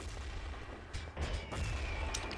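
A grenade detonates in a Rainbow Six Siege match, a loud booming burst with crackling debris landing amid ongoing game noise and rumble.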